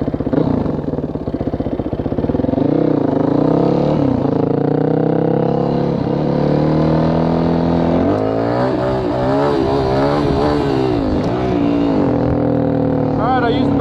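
A Yamaha WR450F dirt bike engine screams continuously on its rev limiter, loud and close with a steady buzzing drone and wavering pitch as the rider holds the throttle through wheelie practice; no talking.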